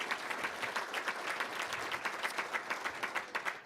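An audience gives a short burst of applause at a leadership talk, with dense steady clapping from a crowd that holds even and sounds moderately distant throughout.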